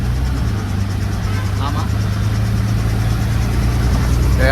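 A new auto rickshaw's engine drones steadily while it drives home toward Panvel, a loud, close, continuous low hum with people talking over it.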